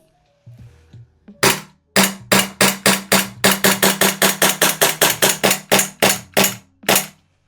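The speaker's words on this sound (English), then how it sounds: "So we did fire all the rounds," VFC/EMG SI SMP gas blowback airsoft pistol emptying a magazine, about twenty sharp, loud cracking shots at a steady, slightly uneven pace after a few quiet clicks of handling.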